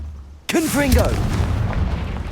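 A Confringo spell explosion in Hogwarts Legacy bursts out as a sudden loud boom with a rumbling tail after a brief quiet start, overlapped by a short voiced call.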